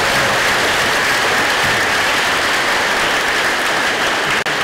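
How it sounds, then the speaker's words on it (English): Steady, dense applause from a large crowd at a technical center awards ceremony, loud and sustained throughout without any voices. "So a big round of applause for Anthony."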